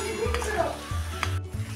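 Salted rava jeera shankarpali fry in hot oil over a medium flame, a soft continuous sizzle broken by faint clinks of a utensil stirring the pieces in the pan.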